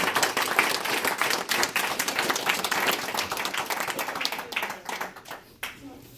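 Banquet audience clapping all together, a busy mix of sharp hand claps and broader applause that stays strong, then tapers off into a few scattered claps as voices mingle faintly underneath.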